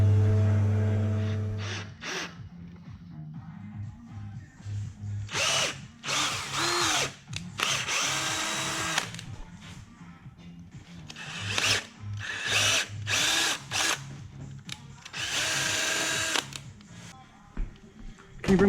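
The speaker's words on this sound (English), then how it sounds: "I do want to drill and tap that patch first" A power drill and tap work on a metal patch during a Mk3 Supra 1UZ-FE VVTi engine swap, with bursts of whining drilling broken by pauses and scraping, close-up and fairly loud, in several separate runs.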